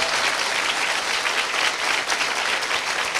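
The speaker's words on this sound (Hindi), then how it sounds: "जोर से जोर से जोर से ताली बजा के प्रभु को धन्यवाद दे" A church congregation claps loudly and steadily, a dense continuous wash of hands filling the whole stretch with no voices over it.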